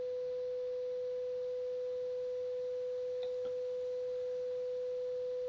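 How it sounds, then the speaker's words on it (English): A steady, pure electronic sine-wave tone of about 500 Hz from a breadboard Class B amplifier hums continuously at a single mid pitch, fairly quiet, with a faint click partway through. "so we have a quite good sinus wave coming"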